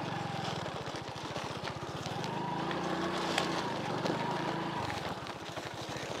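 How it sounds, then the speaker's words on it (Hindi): Motorbike running on small bicycle tires along an unpaved dirt road, its engine droning steadily and close throughout with wind noise and faint background voices. "अभी जो है इस कच्चा रोड पे इस बाइक को लेके जाते हैं"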